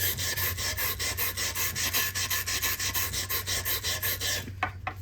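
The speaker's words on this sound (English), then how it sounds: "filing away the grain." A wire brush is scraped along the grain of a bass guitar's wooden body, making a rhythmic series of close, rasping strokes at an even pace, about two per second, with no voices.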